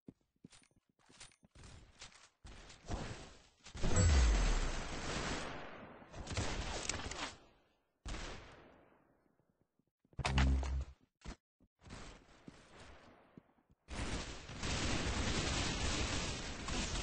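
Gunfire in the Roblox shooter Arsenal bursts in loud, clipped blasts and rapid volleys separated by near silence, with scattered clicks and no talk.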